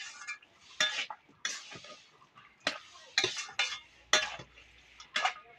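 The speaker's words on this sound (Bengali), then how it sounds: "দিয়ে এবার নাড়াচাড়া দিয়ে নেবো কিছুক্ষণ ধরে।" A utensil stirs vegetable curry with ghee in a pan, giving a series of separate metallic scrapes and clinks at an irregular pace, fairly quiet and close, with no voices.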